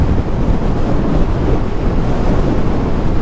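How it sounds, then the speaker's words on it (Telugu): Steady, loud wind rushes and buffets the microphone throughout a motorbike ride on a long highway trip, a continuous broadband roar with no talk over it. "అది గాలి కూగుతా ఉంది"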